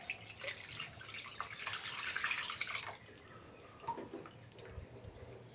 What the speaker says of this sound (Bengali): আমি এখানে হাতটা ধুয়ে জল দিয়ে দিচ্ছি।